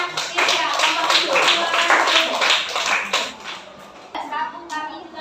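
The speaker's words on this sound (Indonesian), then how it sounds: "Tepuk tangan untuk kelompoknya." Classroom applause for a group of students: scattered, uneven hand clapping mixed with children's voices and chatter, tapering off and then returning in a few light bursts near the end.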